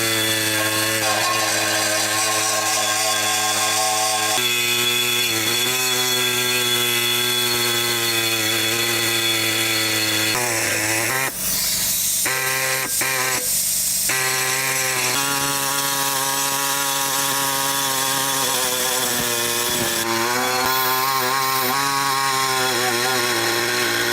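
A power saw blade slicing through metal at a 45-degree angle during a Skyjacker 4-inch lift install on a Jeep JKU, a loud continuous whine with shifting pitch and brief dips mid-cut, running throughout with no talking.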